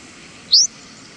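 A single recorded Eastern Meadowlark flight call: one brief, high, clean upward-sweeping note standing alone against a quiet background.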